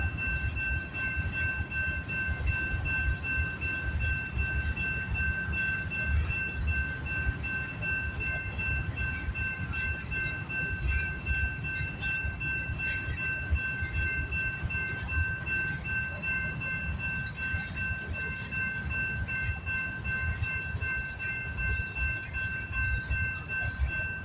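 A freight train rolls past at Delray Junction, a steady rumble and rattle of railcars with a sustained high tonal whine over the wheels, continuous and moderately distant throughout.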